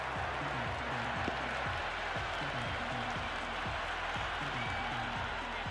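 Cricket stadium crowd in Cricket 26, a broad, steady roar of cheering and applause with rhythmic chanting or drumming underneath, loud and continuous.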